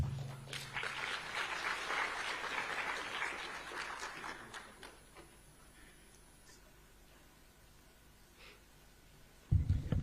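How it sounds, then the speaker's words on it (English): A hall full of attendees at a women's conference at the Kenya School of Government applauds loudly, the clapping tapering off after about five seconds into near quiet before a sudden loud burst of sound at the very end. "A round of applause again, ladies and gentlemen."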